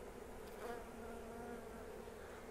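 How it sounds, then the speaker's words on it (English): Bees buzz steadily and continuously at a backyard beehive, a dense, close insect drone with no talking. "There's a bee crawling up my neck."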